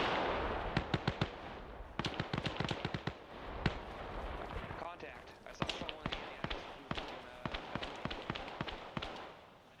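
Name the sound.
gunfire from someone shooting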